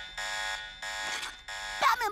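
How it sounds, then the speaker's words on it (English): A cartoon alarm rigged to a sandwich blares in repeated harmonic buzzing bursts, three loud pulses with brief gaps, the last one sliding into warbling tones. "Batman put an alarm on his sandwich?"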